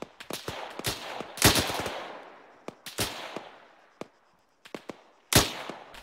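Gunfire in ArmA 3 during a military patrol: sharp, loud shots in short bursts and single cracks, each followed by a ringing echo tail, with brief quiet gaps between volleys.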